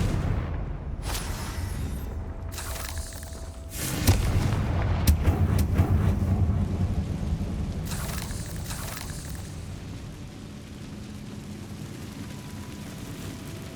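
A Confringo fire spell explodes in the Hogwarts Legacy video game with a deep, booming blast partway through, set against a rumbling, noisy game soundscape.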